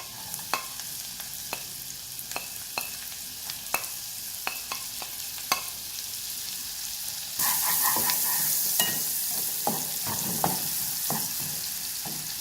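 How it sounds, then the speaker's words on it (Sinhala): Garlic and finely chopped onion frying and being stirred in hot oil in a pan, a steady sizzle with repeated sharp scrapes and taps, louder and busier in the second half, with no talking. "මම එකතු කරගන්නවා සුදු ලුණු, පොඩිවට කපාගත්ත ලුණු"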